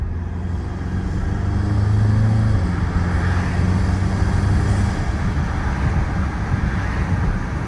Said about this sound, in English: gives you all the fun turbo noises, as you could probably hear